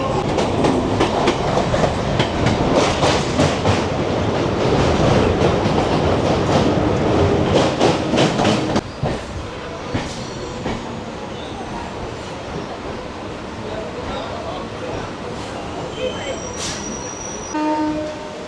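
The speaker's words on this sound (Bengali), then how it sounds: "এখন আর আমাদের ট্রেন এসে দাঁড়ালো নিউ আলিপুর স্টেশনে" A Kolkata circular rail local train rumbles and clatters loudly, then the noise drops off sharply as it slows to a stop at New Alipore station. A horn sounds briefly near the end.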